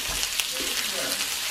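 Bacon frying in a pan for breakfast gives a soft, steady sizzle and crackle, faint and close, with light stirring or scraping mixed in and no one speaking.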